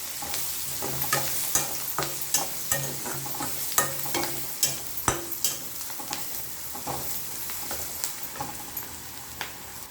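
Onions frying with salt and turmeric in a pan, a steady sizzle with repeated stirring scrapes and clicks, close and continuous with no talk.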